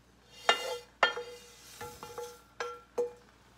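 Stir-fried sakura shrimp tipped into a pan of simmering ebi-mame, heard as five sharp clinks and clatters of utensils against the pan with soft rustling between them, close and moderately loud, no talking.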